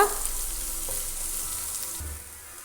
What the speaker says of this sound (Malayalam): ഇടയ്ക്കിടയ്ക്ക് ഒരു രണ്ട് മൂന്ന് മിനിറ്റ് കൂടുമ്പോൾ ഒന്ന് നന്നായി ഒന്ന് ഇളക്കി കൊടുത്ത് ഇതൊന്ന് ഫ്രൈ ചെയ്തെടുക്കുക